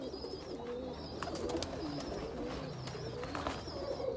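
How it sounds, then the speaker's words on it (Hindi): Kasuri and Rampuri pigeons cooing close by, several soft rolling coos overlapping with scattered chirps and faint background noise. "कसूरी कबूतर है, माशाल्लाह बड़ा ही शानदार कबूतर है"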